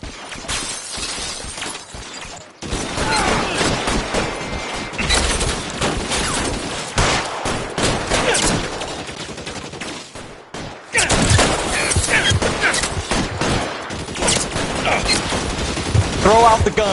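Video game cutscene gunfight: bursts of rapid gunfire and crackling shots rattle on for long stretches, with a short gap before a heavier second volley, under faint voices.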